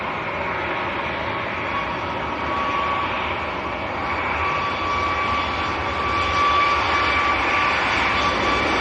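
A Ryanair airliner at Manchester Airport roars steadily with a loud, sustained jet engine whine and rumble, building slightly toward the end, with no speech over it.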